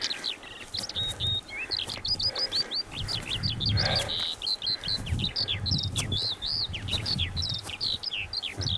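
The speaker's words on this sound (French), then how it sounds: "L'oiseau qui chante." A bird sings repeatedly on a stormy mountain hike in the Massif de l'Authion, its bright chirping phrases running continuously through the whole stretch over a low rumble of wind and ambient outdoor noise.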